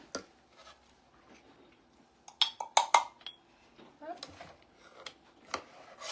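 A metal spoon clinking and scraping in a dish while mixing a Petits Gervais dessert, faint scattered taps that swell into a brief cluster of sharp clinks midway, with a voice talking softly underneath.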